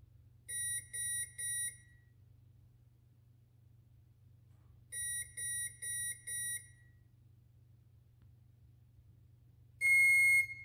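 Electronic speed controller in programming mode, set through an RC transmitter, sounding steady groups of electronic beeps: two sets of three or four quick tones a few seconds apart, then one long sustained tone, over a low constant hum.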